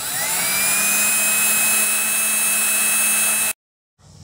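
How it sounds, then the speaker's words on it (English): A power drill bores holes into a wooden dresser drawer during a refurbish, whining loud and steady for about three and a half seconds before stopping, then briefly restarting. "Line it up and drill away."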